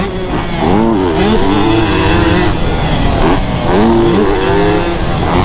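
A two-stroke dirt bike engine roars loud and close with rising and falling revs, while another bike comes up fast on a motocross track.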